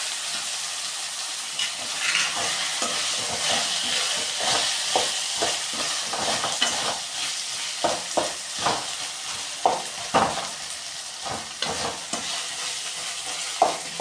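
Ginger garlic paste and tomato frying for a button mushroom gravy, a steady close sizzle with frequent clinks and scrapes of a spoon stirring the pan throughout, no talk.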